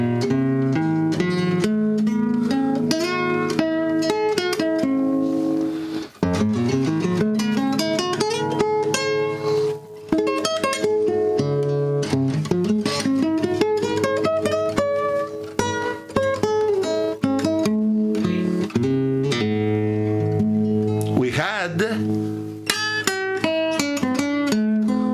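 Sustained keyboard chords ring out one after another, with rich stacked tones and occasional sweeping runs, steady and fairly loud throughout with no talking.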